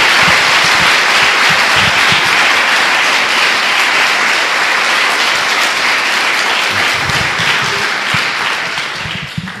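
A church congregation breaks into loud, sustained applause, a thick roar of many hands clapping that holds strong for nearly ten seconds before easing slightly at the end.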